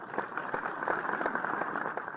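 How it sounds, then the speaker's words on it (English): Scattered hand clapping from a small group in a video game scene, faint and soft, a continuous patter with no voices over it. "I was clapping"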